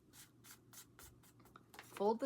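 A vintage book illustration page is folded by hand, making soft, close papery rustles and scrapes in a series of short bursts, with a brief voice-like sound near the end.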